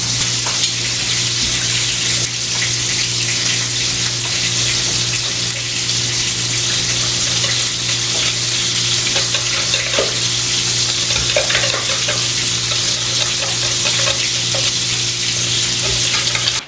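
Meat frying in a pan for a breakfast prep, giving a loud, continuous sizzle with a constant hum beneath it and occasional faint scrapes. The sizzle stays nearly unbroken throughout.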